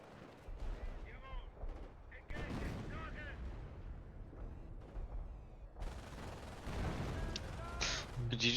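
Howitzer artillery fires in a PhoenixMod tournament video game, with a jumble of booming shots and battle noise at low volume under people talking.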